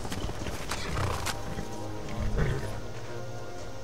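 Horse hooves clip-clop in a quick, uneven rhythm in the video game Skyrim, with other animal noises and a steady game-like background mixed in.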